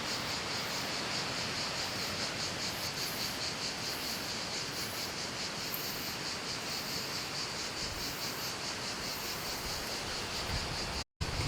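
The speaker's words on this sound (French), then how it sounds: "Ouais, les cigales sont bien aussi." Cicadas at an outdoor animal refuge buzz in a continuous, loud, pulsing drone that carries on without a break, with a brief dropout near the end.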